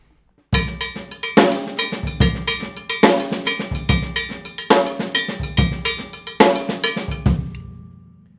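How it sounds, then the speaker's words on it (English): A steady, repeating cowbell pattern in Afro-Cuban 6/8 bembé style clanks loudly and up close, punctuated by a heavy snare accent on the downbeat of the second measure, with no voices. "We played the first pattern that I demonstrated on the cowbell and put a big snare drum accent"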